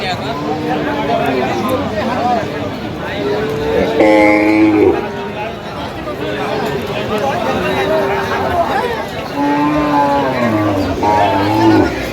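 Cattle, cows and calves, low repeatedly in deep, drawn-out moos at a livestock market amid a busy crowd's murmur and nearby talking, with one louder, higher call midway.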